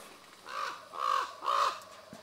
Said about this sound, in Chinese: 乌鸦已经闻见鸡肉的香味来